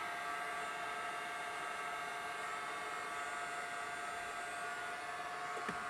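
Heat gun shrinking heat shrink tubing over pins of a 96-pin DL audio connector, a steady, loud blowing roar that runs unbroken throughout, close by with no talk.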